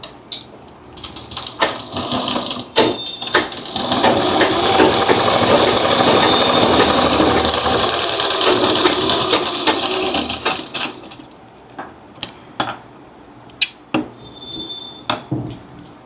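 A sewing machine runs a fabric seam at a quarter-inch margin, a close, steady whirring burst of about seven seconds, framed by scattered clicks and handling taps before and after.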